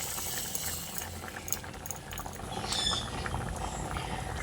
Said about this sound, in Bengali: সেই গরম ডালের মধ্যে তরকাটাকে দিয়ে দিচ্ছি